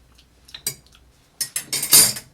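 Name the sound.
stirring a cocktail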